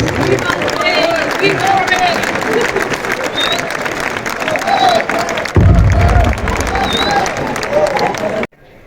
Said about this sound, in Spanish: Un fuerte aplauso para nuestro nuevo rey.